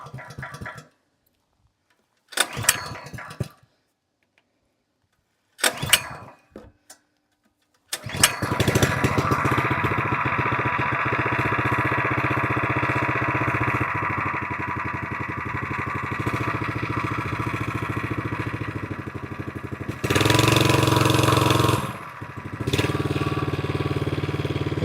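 A 2.8 HP 78.5cc gas engine on a plate compactor with the choke on takes several short pull-start tries with silent gaps between. It then catches and runs loud and steady, revving up near the end.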